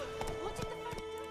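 Rhythmic hoofbeats clop along steadily over a constant musical drone, with a faint whinny, a horse galloping in The Witcher 3: Wild Hunt.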